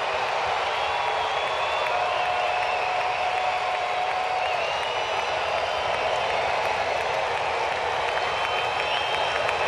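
A large Saturday-night baseball crowd at a Rockies game applauds and cheers steadily, a dense roar of clapping that holds loud and unbroken from start to finish.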